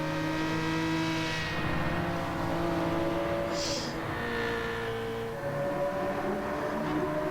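Racing car engines in the Gran Turismo 7 video game, with a Supra and a BMW close behind, braking and downshifting into a chicane. A steady, loud, harmonic engine drone shifts pitch throughout, with no talk.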